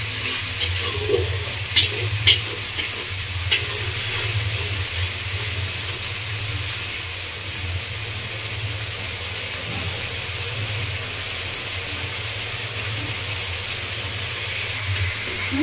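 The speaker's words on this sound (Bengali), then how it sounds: "আদা রসুন গোলমরিচ বাটা দিয়ে ভালো করে কষে নেবো" Ginger, garlic and black pepper paste masala frying in a pan for a village-style doi katla, a constant dense sizzle with a low rumble beneath, close and even throughout, a few sharp ticks early on.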